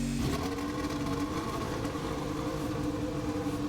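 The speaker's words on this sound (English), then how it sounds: "Well, the engine definitely sounds different." In the F1 2020 video game, a Mercedes-powered Formula One car in practice at the Bahrain Grand Prix gives a steady, continuous engine drone that holds a constant tone throughout, alone without talk.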